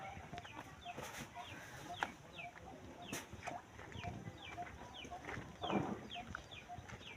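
Chickens cluck repeatedly in short, close calls at a steady pace, with a brief louder burst of squawking near the end, set against a constant background hiss.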